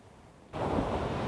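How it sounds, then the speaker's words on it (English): Ocean waves roll in at a beach fishing spot, Metro Beach: a sudden swell of broad, rushing surf noise halfway through that stays steady and fairly loud, with no voices. "There's definitely waves rolling in"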